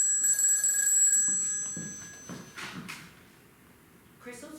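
A telephone rings loudly and close with a shrill bell tone for about a second, followed by rustling, knocking handling sounds and a brief voice.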